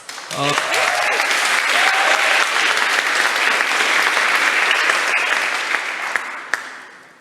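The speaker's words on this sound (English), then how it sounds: "Give them a big round of applause." Audience applause at a startup demo day, steady dense clapping from a large crowd filling the room for several seconds before tapering off, with a brief voice near the start.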